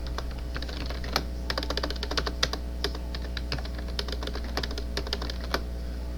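Python code being typed on a computer keyboard: a steady run of quick, close key clicks with irregular rhythm and occasional louder strikes over a low constant hum, no talking.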